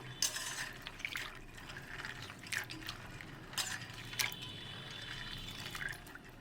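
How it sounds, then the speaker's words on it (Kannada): Quiet splashing and swishing of water as raw peanuts are rinsed by hand nearby, with soft drips and sloshes. "ಅದನ್ನು ನೀರು ಹಾಕಿ ನೀಟಾಗಿ ತೊಳ್ಕೊಬೇಕು"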